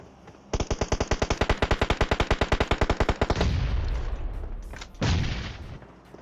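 Automatic gunfire in the mobile battle game PUBG Mobile, a rapid burst of about thirty evenly spaced loud shots, followed by a rumbling tail and one more heavy boom.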